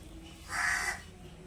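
A single harsh caw from a crow rings out briefly, fairly close, against quiet outdoor background.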